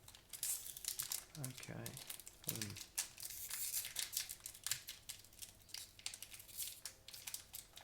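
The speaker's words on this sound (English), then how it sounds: "Hopefully I get better at opening these packs as we go" NRL trading card packs from a Traders Titanium box are torn and crinkled open in close, rapid bursts of foil crackling and ripping, with a brief spoken word over the handling noise.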